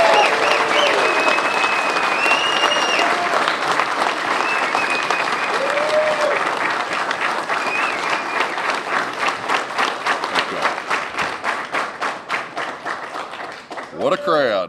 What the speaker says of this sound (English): Big hand for Bill Cole.